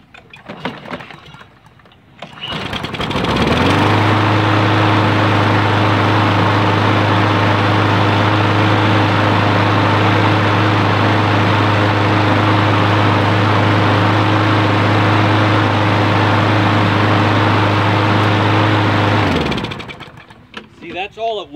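A lawn mower engine catches after starting fluid goes into its repaired carburetor and runs steadily at a loud, even drone for about sixteen seconds, then cuts off.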